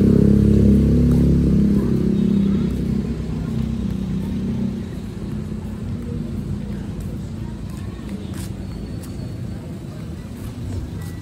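A 71cc stand-up scooter engine with a new stainless Thai-concept exhaust pipe runs close by with a deep, rumbling drone. It is loudest at the start, then settles into a steady, slightly rough idle.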